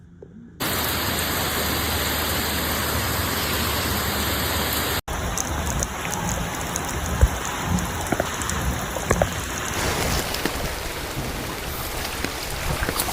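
Heavy rain falls during flooding in the New York and New Jersey area, a dense, steady hiss that starts abruptly, cuts out for an instant, then continues with scattered louder drops and splashes.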